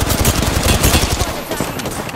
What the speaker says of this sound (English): I'm taking shots. Taking fire.